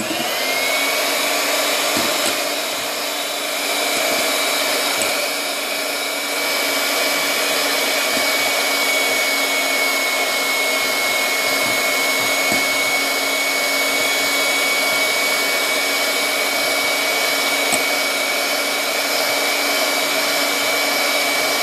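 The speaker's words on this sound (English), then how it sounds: "I've taken heavy cream and I'll start whipping." An electric mixer whips heavy cream for cake decorating, giving a loud, steady, high-pitched motor whine that runs on without a break and stays close.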